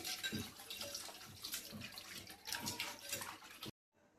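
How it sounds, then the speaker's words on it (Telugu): Half a kilogram of raw chicken is washed under running water in a sink, a steady close splashing flow with irregular sloshes and knocks, cutting off sharply near the end. "ఇది ఒక 2-3 సార్లు బాగా కడుక్కోవాలి"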